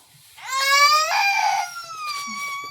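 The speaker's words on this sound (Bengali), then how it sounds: "কি হলো, কি হলো, এত জোরে কান্না হচ্ছে কেন?" A small child cries loudly and close by in a single rising, wailing burst that then trails off into softer whimpering, in a quiet morning garden setting.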